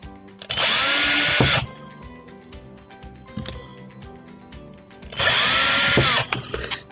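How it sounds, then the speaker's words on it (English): A power drill bores through bottle tops in two loud bursts of about a second each, high-pitched whine with a quieter gap of small handling clicks between them, close up and without talk. "I'll just give those a quick drill."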